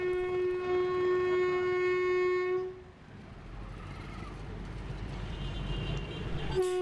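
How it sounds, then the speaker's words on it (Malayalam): A narrow-gauge tourist toy train running down the middle of a public road in Gwalior, Madhya Pradesh, gives a loud, steady horn blast for about three seconds, then its running rumble continues close by, with a brief sharp sound at the end. "ടോയ് ട്രെയിൻ എന്നറിയപ്പെടുന്ന ഈ ട്രെയിൻ ടൂറിസ്റ്റ് ഉദ്ദേശത്തോടെയുള്ളതാണ്"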